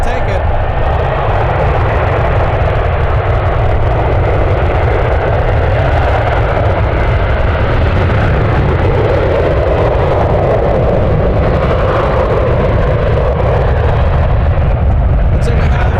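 A jet airliner departing SFO roars in a loud, sustained rush that swells and slowly shifts as it climbs away, filling the whole stretch.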